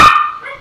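A dog gives a single short, loud bark close to the microphone, which rings out briefly and fades.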